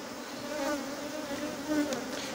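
A weak honeybee colony in an opened hive, with its swarm buzzing in a dense, continuous drone that wavers slightly in loudness, close and fairly loud.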